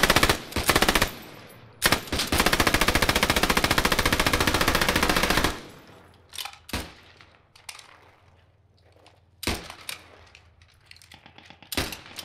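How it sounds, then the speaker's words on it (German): Sustained machine-gun bursts rattle loudly in Post Scriptum as a northern M3 comes under fire, a long rapid volley followed by scattered sharp shots and quieter distant reports. "der nördliche M3 wird beschossen"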